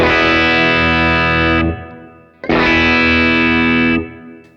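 An electric guitar on its bridge pickup, pushed through a Keeley overdrive pedal, rings out two long driven chords, each held about two seconds and then cut off, loud and bright with no voices.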